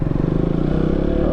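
KTM Duke 200 BS4 motorcycle engine idling with an engine noise fault, a close, steady, rapid low pulsing throb with slight clatter.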